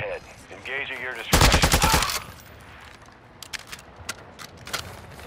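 Call of Duty DMZ gunfight: a loud, tight burst of rapid shots, preceded by a voice and followed by sparse distant single shots and mechanical clicks.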